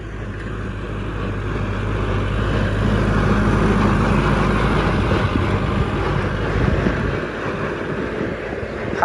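A Kubota L4708 tractor's diesel engine runs steadily, a loud, continuous broadband rumble with a low drone, heard close and alone without talk.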